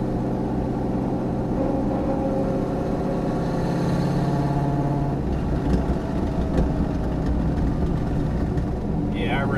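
Ford Mustang with a damaged exhaust idling, a steady low rumbling engine drone with a slight rise in revs, heard close under someone talking.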